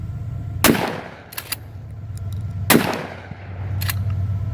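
A Remington Tac-14 pump firearm fires two loud, sharp outdoor blasts about two seconds apart, each with a ringing tail, plus smaller clicks and racking sounds between the shots over a steady low background rumble.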